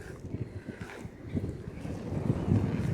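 Wind buffets the microphone while skating into an urban headwind, a steady low rumbling roar with gusty swells that grows slightly louder toward the end.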